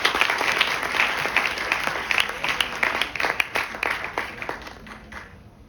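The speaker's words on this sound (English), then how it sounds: "Can we have a huge round of applause?" An audience at a guest lecture for an Innovation Day celebration claps for a speaker called up on stage, a dense burst of applause that gradually thins and fades out.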